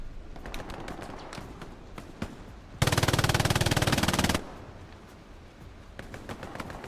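A machine gun in Hell Let Loose fires one sustained burst of rapid, evenly spaced shots lasting about a second and a half, close and loud, with scattered distant gunshots before and after; no voices.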